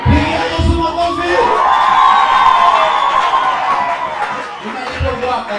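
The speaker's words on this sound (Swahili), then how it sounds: "Pigia Yesu makofi." A youth camp crowd claps and cheers for Jesus, a loud burst of mixed voices and whoops with clapping that swells and holds for several seconds, then eases.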